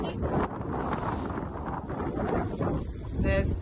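Gusty wind buffets the microphone outdoors at the Avebury stone circle on a cool day, a steady broadband rush with louder bursts toward the end, while a voice can be heard faintly under it.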